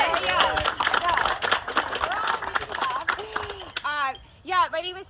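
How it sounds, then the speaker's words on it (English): An audience claps at a charity golf event speech, a scattered patter of hands that runs for a few seconds under several voices talking and calling out, then fades as speech takes over. "We can clap."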